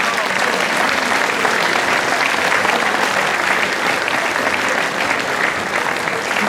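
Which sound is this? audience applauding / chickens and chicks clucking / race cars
audience applauding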